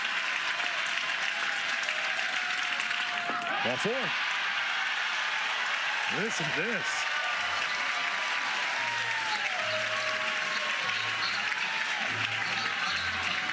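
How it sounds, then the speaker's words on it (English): College softball crowd, Oklahoma versus South Carolina, cheering and clapping on a full count in a long steady roar, with a commentator talking over it and rhythmic stomps or chants rising toward the end. "Crowd comes to life on the 3-2 count."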